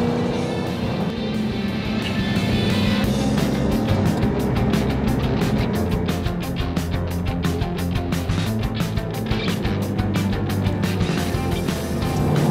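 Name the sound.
2015 Jaguar F-Type R Coupé engine driving on racetrack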